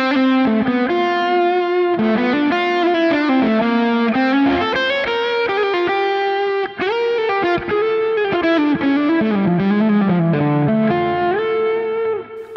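Overdriven Dumble-style electric guitar lead tone from a Nanocortex, captured direct with no IR, playing a melodic singing solo line with bends and sustained notes, loud and alone.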